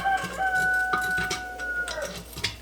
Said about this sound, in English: My rooster is going crazy.